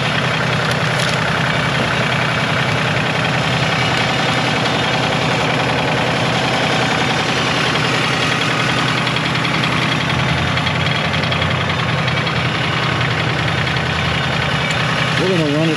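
A tractor engine idles steadily and loud up close while running a Cole 12MX planter, a constant throbbing drone with a faint mechanical whine on top.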